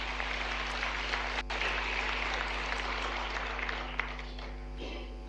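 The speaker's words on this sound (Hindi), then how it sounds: "जोरदार तालियां अक्षत के लिए भी" A dense round of audience applause for Akshat at the 'Safalta ke Mantra' event, where CM Mohan honours candidates selected in the civil services exam; steady clapping fills the whole stretch and eases slightly toward the end.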